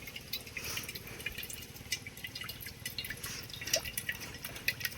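Coconut water pours out into a small vessel, a steady close trickle and splash of liquid that runs continuously and fairly quietly, with no talk over it.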